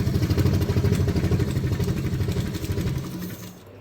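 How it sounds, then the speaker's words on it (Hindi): A sewing machine stitches fabric for a small doll outfit, running in a fast, even mechanical clatter close by before slowing and stopping near the end. "तो अभी हम यहाँ से इसमें सिलाई लगा लेते हैं।"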